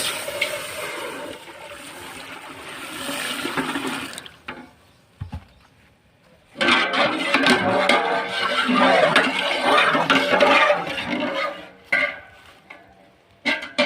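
Water poured into a metal vessel to rinse it before cooking milk sweet, a loud rushing splash that stops abruptly, a brief clunk, then another long run of pouring and sloshing ending in short splashes.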